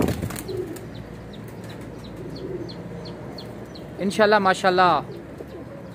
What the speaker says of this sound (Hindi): अल्लाह का कबूतर वेखो